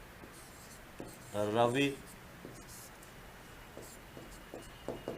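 Pen writing on paper during a Hindi lesson, a brief scratchy stroke sequence under a teacher's speech, with light clicks and rustles around it.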